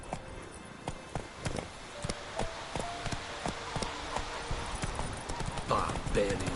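Horse hooves clop in a quick, rhythmic galloping beat in The Witcher 3 video game, close and steady, with voices speaking over the hoofbeats.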